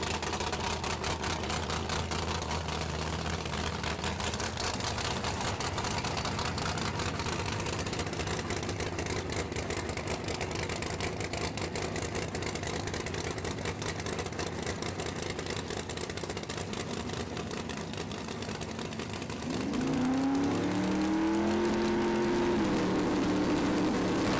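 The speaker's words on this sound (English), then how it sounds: "they are going to slowly start moving forward in that Pro Charge Camaro" A Pro Charge Camaro drag car creeps forward at a PDRA drag racing event, its engine a steady drone under broad track noise, then a louder rising rev swells near the end.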